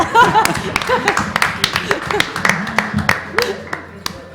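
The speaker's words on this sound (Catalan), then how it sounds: "aplaudiment, sisplau" Scattered, uneven hand claps from a small live audience at a Ràdio Clota radio show recorded at Salt Mortal 2019. Sharp individual claps ring out under ongoing talk and light laughter.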